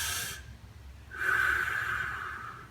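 Deep belly breathing during a floor exercise for shoulder function: a short breathy intake, a pause, then a long steady exhale of soft airflow, close and alone.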